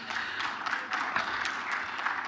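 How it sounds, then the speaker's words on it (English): An audience at a Nigerian surveyors' and architects' fellows induction lecture applauds, a dense, even burst of many hands clapping with no talk over it. "Please, can we give her a round of applause?"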